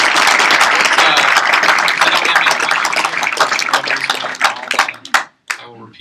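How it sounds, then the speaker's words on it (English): Round of applause from the audience at a Startup Grind Silicon Valley talk, dense steady clapping that fades and breaks into scattered claps near the end, with some voices underneath. "Let's give Bo a big round of applause."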